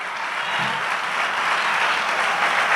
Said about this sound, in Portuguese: Só quem crê, aplaude aí,